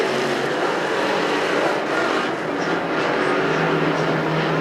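Street stock race cars battle three wide for second at Perris Auto Speedway, their engines a loud, unbroken roar filling the whole stretch.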